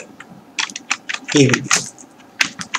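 Computer keyboard typing while writing CSS code, irregular quick key clicks in short bursts, close up, with a voice speaking briefly over the keystrokes.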